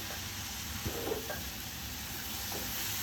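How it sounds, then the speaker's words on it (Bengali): Sliced bitter gourd (karela) fries lightly in a pan with oil. A steady, close sizzle and hiss runs throughout, broken by a few soft stirring scrapes. "এই যে আমি করলা কিন্তু হালকা হালকা করে ভাজি করব সবুজ সবুজ করে"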